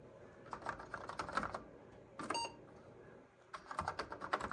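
Keys clatter on a chunky antique Bulgarian-made Apple II clone keyboard, a close, quiet run of irregular clicks with a short pause before a final burst of typing.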